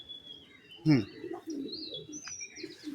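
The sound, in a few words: Belgian racing pigeons in a loft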